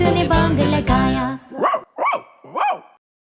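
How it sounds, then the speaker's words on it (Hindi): A cartoonish dog barks three times in a children's rhyme, evenly spaced and close, each bark sharp and pitched, right after a sung musical phrase ends. "वो एक कुत्ता है।"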